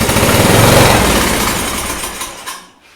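A riding lawn mower engine, part of a custom yard kart build, revs loud and rough close by, a dense buzzing roar that holds steady then fades out toward the end.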